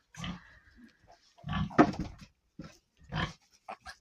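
Short soft grunts from small piglets, several brief bursts spaced irregularly, close and fairly quiet.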